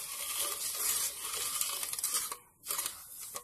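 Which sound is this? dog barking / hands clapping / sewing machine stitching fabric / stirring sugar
stirring sugar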